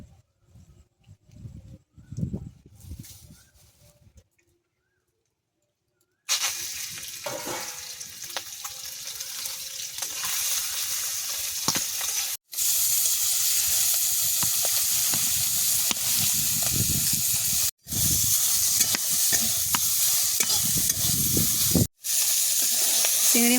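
Shrimp fry in hot mustard oil on a village kitchen stove. Soft scattered clatter comes first, then after a short pause a loud, steady, close sizzle hisses continuously, broken only by a few abrupt cuts.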